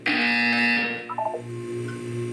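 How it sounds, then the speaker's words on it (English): A loud, sustained electronic buzzer tone from the Portal 2 video game, holding for about a second, then a short run of stepped chime notes and a lower pulsing hum. "You will hear a buzzer"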